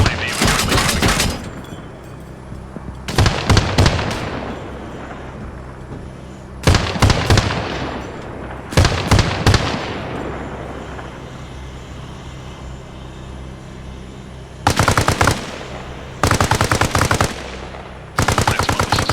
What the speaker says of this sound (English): auto cannon fire tier 255 is a friendly LAV with friendlies moving up